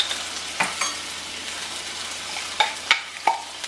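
Garlic sizzling in a hot pan, a steady soft crackle with a few sharp pops and clinks of a utensil scattered through, close and on its own with no talking.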